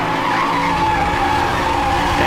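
Car drifting with screeching, skidding tires in the racing game Need for Speed Hot Pursuit Remastered, a loud continuous squeal over engine roar lasting throughout.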